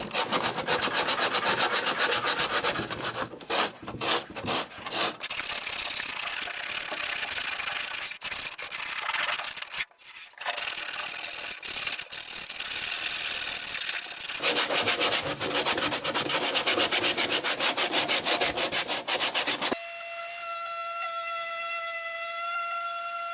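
Continuous rough scratching of sandpaper rubbed back and forth by hand in tight spots on a small wooden boat build, close and loud with brief pauses, ending in a steady high electronic tone.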